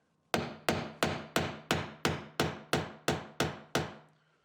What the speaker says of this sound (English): take my nail set, put it on my nail, and I'm going to drive that in a little bit